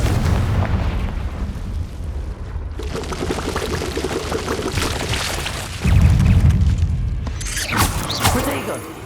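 A Confringo blasting spell goes off in the Hogwarts Legacy video game inside a cave, giving loud booming explosive bursts and rumbling debris over a continuous background, with a second heavier blast partway through.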